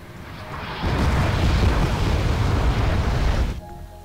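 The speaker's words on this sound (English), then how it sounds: "In 1 or 2 salvos we'll be hitting every shot on the artillery" Artillery salvos explode in a video game, a dense, loud rolling boom lasting about three seconds before cutting off abruptly.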